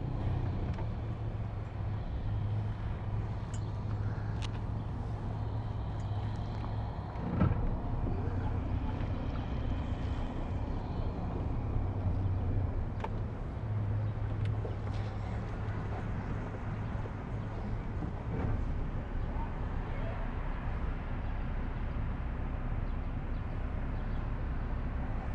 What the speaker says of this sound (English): I'm going to give it a little spin around here for Alex as he works the camera.